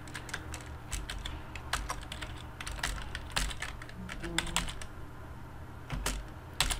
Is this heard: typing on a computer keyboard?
yes